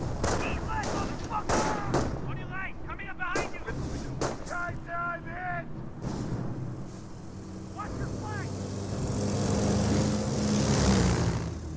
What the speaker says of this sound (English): Does get a nice sniper shot there.